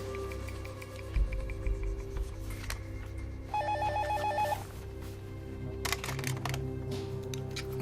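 A telephone gives one short electronic ringing burst indoors, standing out over a low steady hum and faint background clatter in a scene from a French television drama.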